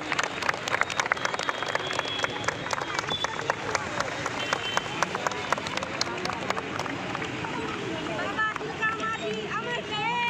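Crowd clapping hands at an outdoor Independence Day gathering honouring Baba Tilka Manjhi, a dense continuous patter of many hands with voices and chatter mixed in throughout.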